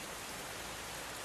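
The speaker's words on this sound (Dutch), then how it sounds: "ook bij ons stort een tropische regenbui neer" A tropical rain shower pours down as a dense, steady hiss of falling water, loud and unbroken throughout.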